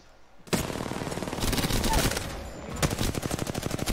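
Automatic and single gunshots crack in a video game shooter, starting abruptly and continuing in dense rapid bursts with a second fast volley near the end, while players talk faintly underneath.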